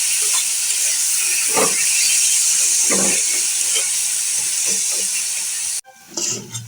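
Leafy greens hitting a pan of browned onion: a loud, steady frying hiss fills most of the stretch, with a few soft stirring knocks, then a sudden drop and a brief quieter sizzle.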